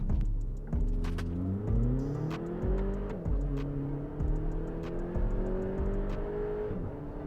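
A Skoda Kodiaq SUV accelerates hard through several gear changes, its engine and exhaust rising in pitch in repeated sweeps, loud and close with no talking.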